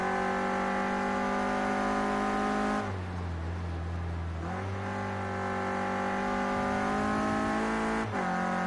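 Onboard engine of a Renault Clio Cup race car lapping Oschersleben: a loud, continuous high-revving drone that climbs through the gears, dips sharply for a downshift and braking, then winds back up, with no voices.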